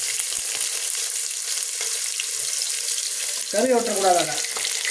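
Onions fry with cumin in a pan for fish curry, a bright continuous sizzle that runs the whole time, with a person speaking briefly over it near the end.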